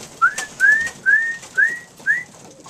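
Young racing pigeons at a loft trap give five short, rising whistled calls in an even rhythm, close and clear over a quiet background.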